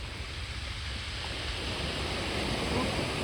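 Sea waves wash steadily along the coast near Seven Sisters, a continuous broadband roar with wind buffeting the microphone, fairly loud and unbroken throughout.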